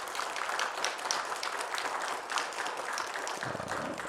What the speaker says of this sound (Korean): 부활하신 우리 주님께 영광의 박수를 올려드리겠습니다